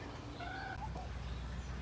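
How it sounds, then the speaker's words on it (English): Chickens cluck softly in short murmuring calls over a low background hum. "So these are my chickens."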